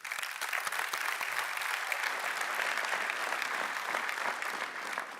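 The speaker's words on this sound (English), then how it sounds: "I want to give a big round of applause to the team that has been doing this." Sustained applause from a large audience at a tech conference keynote, a dense, even wash of many hands clapping that holds steady for the whole stretch without voices on top.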